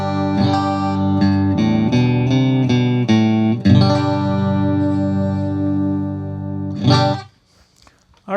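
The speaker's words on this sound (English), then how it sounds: "Here's the sound of the clean guitar." Clean electric guitar from a Fender Stratocaster on bridge and middle pickups, a run of bright picked chords and notes ringing close and loud, ending on a sustained chord that cuts off abruptly.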